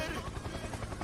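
Helicopter rotor drone in a flight simulator game, a continuous loud chopping whir throughout, with a voice talking over it.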